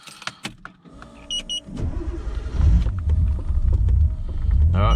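A Nissan R32 Skyline turbo engine cranks and fires up after sitting for weeks, settling into a loud, rumbling idle close by, with no talk.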